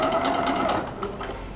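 A sewing machine stitching a rolled hem, a fast continuous mechanical whir, close and steady, easing slightly near the end.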